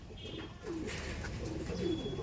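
Andhra pigeons coo softly inside a loft, a short close burst of low throaty calls with faint chirps in the background and no talking.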